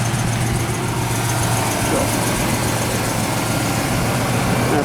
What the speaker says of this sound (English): I think the engine sounds pretty neat.